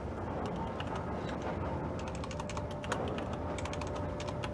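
Rapid typing on a Corsair keyboard with full-size keys, quick irregular clicks clattering close by over a faint background hum, no talk.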